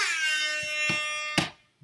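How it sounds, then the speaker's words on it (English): A loud, blaring air horn blast held for over a second, with a couple of sharp knocks underneath before it cuts off. "Steve does need an air horn"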